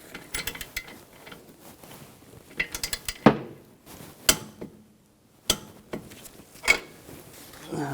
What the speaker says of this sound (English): we're going to torque this bolt to 30 foot-pounds